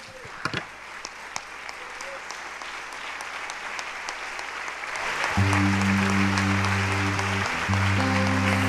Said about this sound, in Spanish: aplaudamos todos juntos al que lo merece